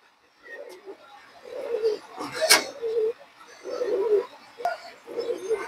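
A pigeon coos in repeated low, throaty phrases, several bursts close by, with someone talking over and between the calls.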